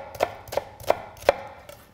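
A knife finely chops a shallot on a cutting board in a home kitchen: four soft, evenly spaced taps about a third of a second apart, quiet and close, with no talking.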